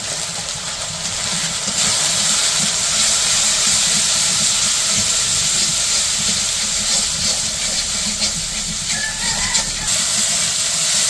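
Spice paste with turmeric, chili powder and salt fries hard in a pan for a Bengali fish curry, giving a loud, constant sizzling hiss that barely varies from start to finish.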